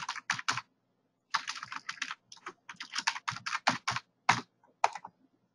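Keys clatter on a computer keyboard as a component name is typed, close irregular bursts of clicks separated by short pauses, with no talking.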